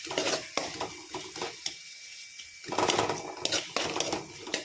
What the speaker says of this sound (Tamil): இப்போ இதை கலரி விட்டுக்கலாம்.